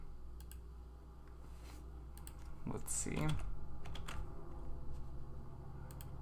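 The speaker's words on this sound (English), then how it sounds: "Korean keyboard's kind of weird" Typing on a computer keyboard with Korean input, bursts of quick soft key clicks in clusters, fairly close, with a person murmuring briefly in the middle.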